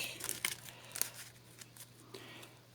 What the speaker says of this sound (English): We shuffle up his villain deck.